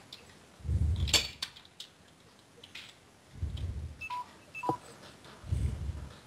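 A phone in a Minecraft game gives a few short, sharp electronic beeps at a moderate level, set among bursts of low rumbling game sound.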